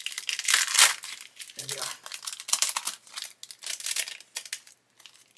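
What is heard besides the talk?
knife cutting open plastic parts packaging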